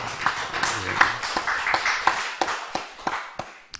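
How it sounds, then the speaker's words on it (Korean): A church congregation at a Sunday afternoon service claps in a steady rhythm of sharp, fairly close hand strikes, with voices and singing-like tones mixed in underneath. "하나님께 영광의 박수 올려드리겠습니다"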